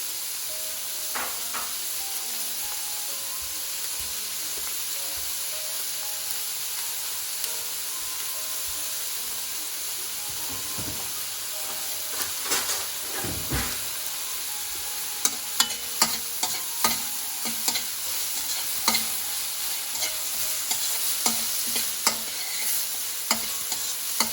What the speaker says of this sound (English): I want the onions to brown a little bit.